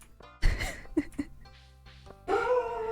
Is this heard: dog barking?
yes